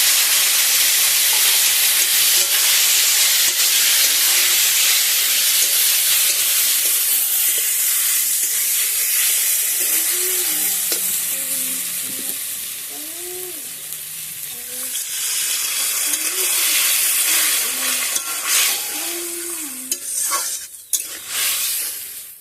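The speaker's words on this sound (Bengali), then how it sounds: "তো চলো এবার জল দিয়ে দেবো পরিমাণ মতো।" Water poured into a hot pan of wild taro and hilsa fish curry sets off a loud, broad hissing sizzle that surges and rumbles, easing midway before swelling again, with faint tonal squeaks mixed in.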